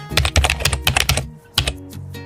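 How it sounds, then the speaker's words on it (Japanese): A computer keyboard sound effect: quick, close, clicky keystrokes in a dense burst, a short pause, then a few final taps. "キーボードタイピング。"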